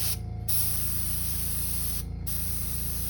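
Steady airbrush spray at 20 psi hisses continuously at close range, with two brief breaks in the flow where the trigger is eased, used for painting a crawfish lure.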